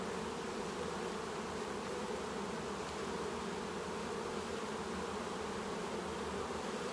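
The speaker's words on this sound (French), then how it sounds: "C'est une ruche qui est calme." A steady, dense drone of many calm honeybees buzzing close over a hive frame, unbroken and even for the whole stretch, with no voices.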